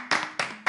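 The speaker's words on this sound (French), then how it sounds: "Est-ce qu'on peut applaudir nos téléspectateurs?" An audience claps in three short bursts of applause, each a sharp onset with quickly fading clatter, fairly close and under a faint steady hum.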